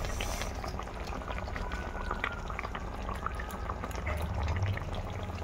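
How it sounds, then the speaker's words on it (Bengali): Fish curry gravy (jhol) bubbling in a pan, a continuous close, moderate simmering burble with small pops and drips and no talk. "এবার ওটা ঝোলটা ফুটতে থাকুক।"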